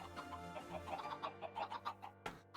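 Blocky chickens in a Minecraft farm cluck in a quick series of short, soft calls, faint and close together with a low background hum.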